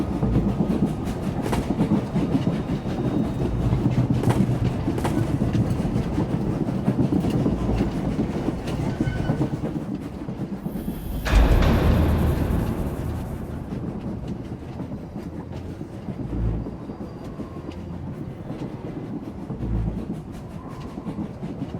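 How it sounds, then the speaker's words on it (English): Train rumbling along the tracks in the sci-fi game Star Wars: The Old Republic, a steady rolling clatter with a brief louder whoosh partway through, then a quieter continuous rumble. "The train is on the move, and the traitor's on board."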